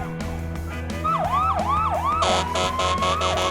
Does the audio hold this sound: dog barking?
no